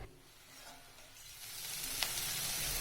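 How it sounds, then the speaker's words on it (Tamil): Shredded cabbage sautéing in a pan for a Tamil cabbage and egg stir-fry gives a steady, close sizzle and hiss that grows slightly louder over the seconds, with one brief scrape or stir near the end and no talking. "ஒரு 5 நிமிஷம் நம்ம கோஸ் சேர்த்து ஒரு 5 நிமிஷம் வதக்கிக்கலாங்க."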